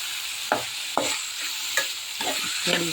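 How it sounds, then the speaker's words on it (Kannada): Onions fry with salt and turmeric in a pan, a steady close sizzle broken by several sharp scraping stirs of a spoon at irregular intervals, with no voices. "ಉಪ್ಪು, ಸ್ವಲ್ಪ ಅರಿಶಿನ, ಇದನ್ನು ಚೆನ್ನಾಗಿ ಫ್ರೈ ಮಾಡ್ಕೊಳ್ಳಿ"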